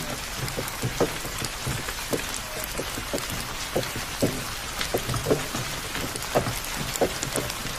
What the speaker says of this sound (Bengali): প্রায় 1 ঘন্টা ধরে বৃষ্টি হচ্ছে, বৃষ্টি থামার কোনো লক্ষণই দেখছি না।